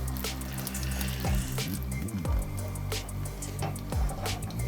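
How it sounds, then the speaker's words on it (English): An egg frying in hot oil gives a steady, close crackling sizzle with scattered pops and bubbling throughout, and no voices. "Go ahead and heat your oil, drop your egg in, and we're just going to do a quick fry on the egg."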